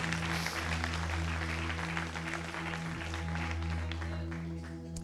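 A church congregation applauds during a Portuguese-language worship celebration, a dense, continuous wash of clapping with sustained musical tones underneath.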